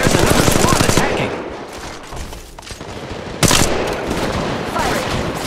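Automatic gunfire rattles in rapid bursts in Apex Legends Mobile during a squad fight. Two loud volleys are split by a brief lull, with game sounds underneath.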